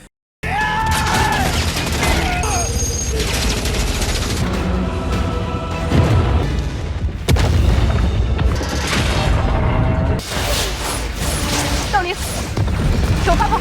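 An explosion in an animated donghua battle scene, with a continuous roar of booms and crashes layered over dramatic music and dialogue, loud throughout with several heavier impacts.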